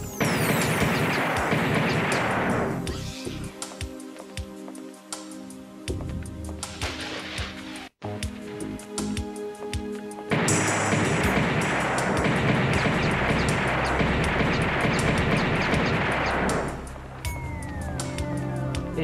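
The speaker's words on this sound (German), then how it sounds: "Ich schieße mehrmals drauf, um zu sehen, ob die wirklich kaputt gehen oder nicht." Repeated gunfire in the PS1 game Alien Trilogy, aimed at xenomorph corpses, comes as long dense bursts of loud rattling shots with a brief pause between volleys.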